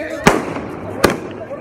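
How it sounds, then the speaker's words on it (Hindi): Sky shot fireworks bursting at an Ayodhya Ram Mandir celebration, two sharp loud cracks about three quarters of a second apart, with crowd noise and talking in between. "इस वाले स्काई शॉट के अंदर पाग लगा दिया तुम्हारे भाई ने।"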